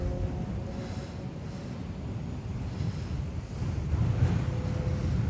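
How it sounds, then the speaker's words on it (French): Wind blows steadily across a microphone atop the Becan pyramid in Mexico, a low continuous rumbling buffet that swells slightly toward the end, with no speech. "Il fait du vent, hein?"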